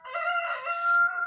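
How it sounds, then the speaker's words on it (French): An Araucana rooster crows once, a clear harmonic cock-a-doodle-doo lasting just over a second, close and alone with no talk. "c'est mon premier coq"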